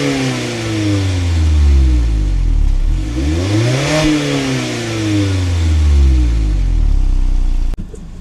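A Mazda Miata sports car with the top down is driven and revved hard, its engine note climbing and falling in repeated sweeps, loud and close, before a brief shift-like break near the end.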